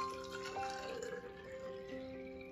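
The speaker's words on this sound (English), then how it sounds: "So the first thing that you're gonna do is to fill it halfway with water." Water runs from a tap into a bottle being filled halfway for a homemade lava lamp, a steady close liquid gurgle and splash with a faintly rising tone, no talking.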